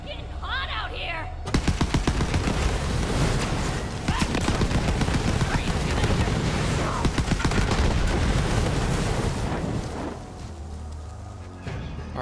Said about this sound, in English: now who's shooting?